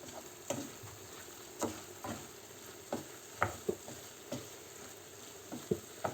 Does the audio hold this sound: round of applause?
no